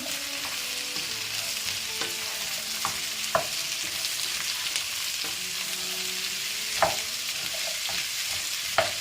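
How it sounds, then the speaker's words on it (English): Red, yellow and green capsicum stir-fried in a pan for gobi manchurian, a continuous sizzle with scattered spoon taps and scrapes as the peppers are mixed. "the red, yellow and green capsicum. And I'm just going to mix it again."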